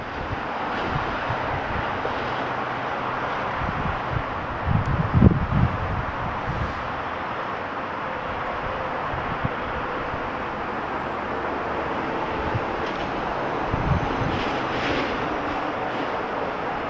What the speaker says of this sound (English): let's just at least wait a few more minutes to see if that Amtrak train comes